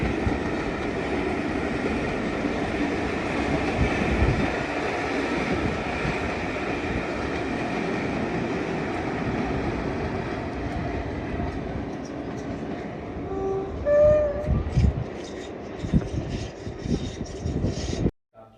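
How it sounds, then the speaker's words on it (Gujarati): A train rumbles past in the Scottish countryside, a long steady roar with rolling wheel noise that thins out toward the end, where faint whistle-like tones and a few voices appear. "હેરી પોટરની ટ્રેન જોવા આવ્યો."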